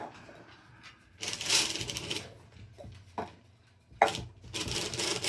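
A hand-cranked circular sock knitting machine turns through a couple of rotations, producing close bursts of rattling, clicking needle action separated by short pauses, with no talk.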